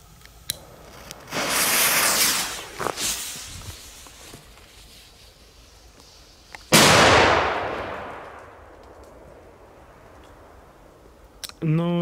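An old Megatronik firecracker loaded with 5 grams of NEC bursts with a single sharp, loud bang that rings out and decays over a few seconds, preceded by earlier rustling and fuse hiss, with no talk over it.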